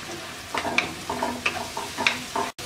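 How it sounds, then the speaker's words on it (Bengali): Ground chilli, turmeric, coriander, cumin and sliced green chillies fried in a pan for hilsa with spinach, a close sizzle broken by several scraping, clinking spoon strokes in an uneven rhythm, ending with a short gap. "মশলাটাকে আমরা কিছুক্ষণ কষিয়ে নেব।"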